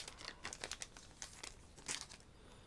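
Plastic packaging of a Pokémon Pokébox with a Kyogre card being unwrapped, giving a run of close, dry crinkling and crumpling bursts with a few sharper tearing rustles, no voices.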